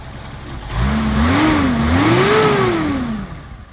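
A restored Datsun 280ZX 2+2 with automatic transmission revs from idle in a couple of smooth rising and falling swells, close and loud, then settles back down.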